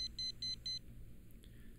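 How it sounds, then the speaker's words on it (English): A Dawson DDM350 pen-type digital multimeter's buzzer gives four short, evenly spaced electronic beeps during a non-contact voltage test, close and clear, then stops, leaving quiet room tone. "If the meter detects voltage, the NCV indicator will flash and the buzzer will beep."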